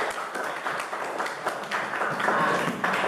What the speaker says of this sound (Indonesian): Tepuk tangan bagi kita semua dulu.